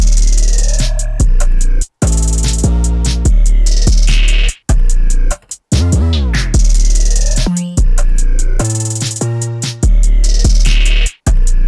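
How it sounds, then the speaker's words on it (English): A punchy Halloween-style trap drum beat made in FL Studio 21, with deep booming bass, crisp snappy hits and rapid rolls, loud and up front with brief drops to silence between sections. "the main chorus drums sound like this"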